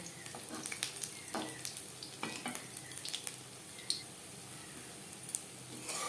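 Raw banana kofta balls fry in oil in a wok, giving a soft, quiet sizzle broken by scattered small pops and clicks.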